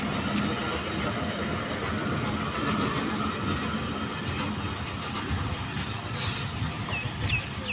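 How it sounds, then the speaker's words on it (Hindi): A Karachi Express non-stop train led by a GE40 locomotive approaches, a steady broad rumble of wheels and engine holding throughout at moderate distance, with a brief brighter squeal near the end. "ले जनाब, ये सामने आ रही है 15 up Karachi express non stop train"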